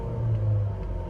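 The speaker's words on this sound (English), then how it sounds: "I'm gonna rev the engine up here for us too." A 2019 Ford Escape Titanium engine revs briefly, giving a loud low rumbling drone that swells and settles within about a second, heard alone without voices.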